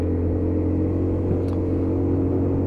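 A Lexmoto Titan motorbike is ridden on an open road in blustery weather. The engine gives a steady, continuous low rumble mixed with road and wind noise.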